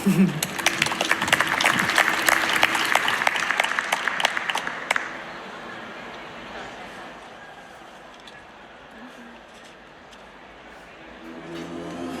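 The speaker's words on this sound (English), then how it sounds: "Give a big round of applause" Audience applause fills a large conference hall as two speakers are welcomed on stage at a Slush fireside chat, loud and dense for about five seconds before fading to quiet room murmur.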